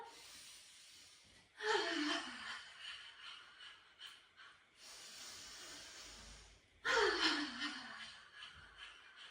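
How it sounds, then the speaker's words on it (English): Two long, forceful purging breaths during a qi gong exercise, each a strong airy exhale with a rushing hiss, close and fairly quiet, separated by a softer breathing interval. "let's take 3 more purging breaths together"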